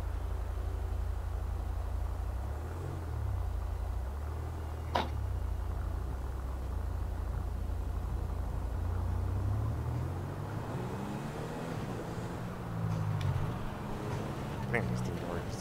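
2020 Explorer ST driving in GTA FiveM, a steady, faint engine and road rumble with a gentle rise in pitch near the end, under a quiet voice talking.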